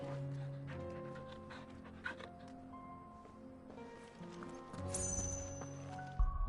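A dog panting in Final Fantasy XVI, a steady breathy rhythm set against game music and ambient sound, with faint hoof-like clopping mixed in.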